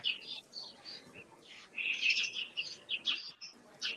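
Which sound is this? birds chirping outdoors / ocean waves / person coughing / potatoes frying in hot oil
birds chirping outdoors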